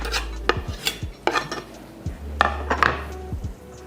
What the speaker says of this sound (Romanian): Și acum amestec totul delicat.